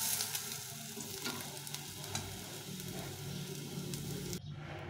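Potatoes sizzle and crackle in hot mustard oil left over from frying fish, a steady close frying hiss with occasional stirring scrapes.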